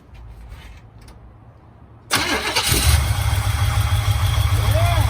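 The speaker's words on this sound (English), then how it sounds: "we're about ready to start her up now" A 1969 Camaro V8 cranks and catches just after a new carburetor is fitted: quiet shop noise first, then a sudden loud start about two seconds in that settles into a steady, rumbling idle close by.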